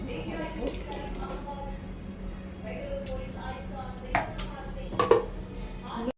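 Knife chopping tomatoes on a cutting board in a home kitchen, soft scattered taps with a few sharper knocks near the end, under a steady low background hum.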